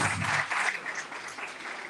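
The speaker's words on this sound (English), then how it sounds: "I ask you to applaud these men" Audience applause for two honoured guests at a mosque gathering, a steady wash of clapping at moderate distance, fairly even throughout with no voices over it.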